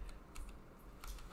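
Quick, light key clicks come from typing on a Jupiter Ace home computer keyboard, a short irregular burst of taps heard alone and fairly faint.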